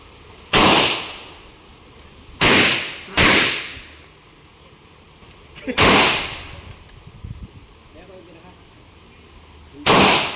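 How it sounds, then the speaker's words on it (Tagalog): Five loud, sharp rifle gunshots at irregular intervals during a firing drill, each a sudden blast with a brief echoing tail, fired close by outdoors. "Load your weapon. Aim target. 2 rounds only. Fire when you're ready."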